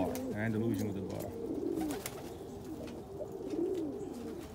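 Andalusian pigeons coo repeatedly nearby, a low rolling warble that rises and falls, with faint background noise and occasional soft rustles.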